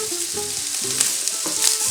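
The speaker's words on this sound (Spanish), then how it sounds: "le añadiremos una gotita de vino blanco" White wine splashes into a pan of sizzling anchovy, a loud steady hiss of frying with a few sharper spits and crackles throughout.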